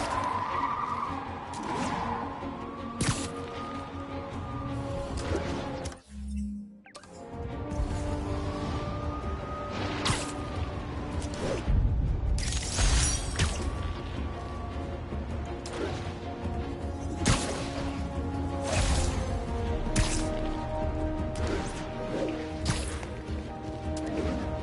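A truck fleeing pursuit in the video game Marvel's Spider-Man, with repeated loud tire skids and squeals, revving engines, a brief sudden dropout, then thuds and crash-like impacts amid continuous chase noise.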